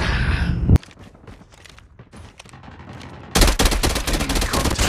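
Tec-9 fired in burst mode in Call of Duty Mobile: a loud opening shot, a quieter stretch of scattered game noise, then a dense run of rapid close-range gunfire to the end.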